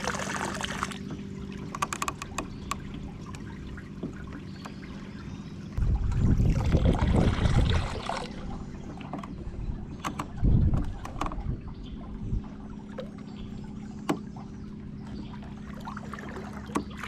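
A trolling motor churns pond water in bursts, with a loud low wash of agitated water swelling for a couple of seconds and then a shorter second surge, against a steady low motor hum and faint outdoor background.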